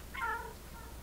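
A cat meows once inside the video game Stray, a short, close, clear call standing alone over a quiet background.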